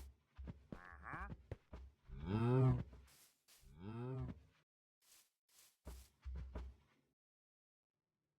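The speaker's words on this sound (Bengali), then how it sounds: "আমরা একটা গরুকে নিয়ে আসতে পেরেছি" In Minecraft survival, a farm cow moos in a few drawn-out calls between short clicks and game sounds, faint and clear with no voices over it.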